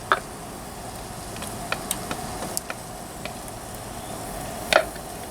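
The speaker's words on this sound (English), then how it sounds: "Trying my best with this flexible wooden spatula to get most of it out of there" Light scrapes and taps of a flexible wooden spatula inside an emptied can of beans, a few sharp little clicks spread over a quiet background, with one louder scrape near the end.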